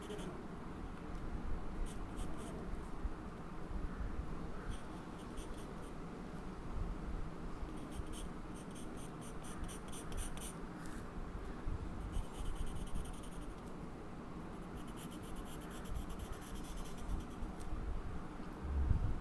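A pencil scratches across paper in a steady run of soft strokes, with quicker bursts of rapid back-and-forth shading as an anime figure's arms are sketched. No one speaks.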